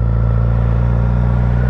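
A 2022 Suzuki GSX-S950 in A2 trim idling close by, its engine rumbling loud and steady with a strong low throb. The motorcycle stays near one pitch with no rise in revs, and no voices are heard.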